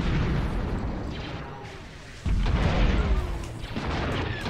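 Deep, rumbling video game explosions in Stellaris burst out one after another, with a sharp heavy blast midway followed by continued thunderous rumbling.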